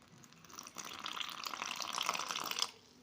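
Water trickles and splashes steadily for a couple of seconds into samosa dough being kneaded, a close, bright pouring sound that starts softly, swells, then cuts off.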